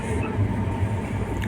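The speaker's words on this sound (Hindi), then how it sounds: "ट्रेन की स्पीड स्लो हो गई क्योंकि माउंट आबू का रेलवे स्टेशन आ गया" A passenger train slows as it approaches Mount Abu railway station, giving a steady, continuous rumble of rolling rail cars that stays close and fairly loud throughout, with no voices.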